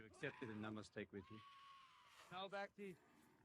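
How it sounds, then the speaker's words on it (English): Shrill, screechy goat bleats from a film scene, several short harsh cries and one long drawn-out wail, close and loud against a quiet background. "Screechy goats."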